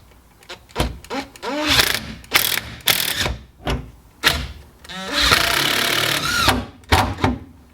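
A ratchet clicks in short bursts while tightening an M8 nut on the fuel system of a Ford Sierra Sapphire RS Cosworth. The clicking rises and falls in several close, loud runs, with brief pauses and faint talk between them.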